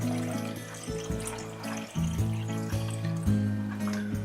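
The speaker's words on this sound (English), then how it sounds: "I've allowed the vinegar to cool down a bit now, so it's just a case of pouring over the eggs." Cooled vinegar poured over eggs in jars for pickling, a trickling, gurgling stream with rising tonal ringing as the jar fills, close and clear with no talking.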